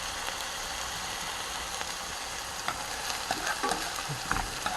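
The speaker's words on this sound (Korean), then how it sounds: "파기름을 만듭니다" Green onion and generous perilla oil sizzle steadily in a pan while making scallion oil for grilled dried pollock, with occasional clinks and stirring scrapes close by and no talking.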